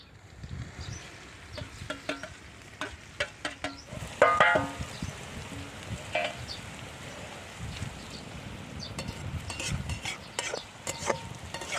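Green garlic dropped into hot tempering oil in a home kitchen while making dungaliyu, a Mehsana street-food onion dish, giving a steady sizzle and frying crackle with stirring scrapes and clinks that peak briefly, then settle into continuous frying.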